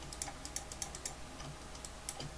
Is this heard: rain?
no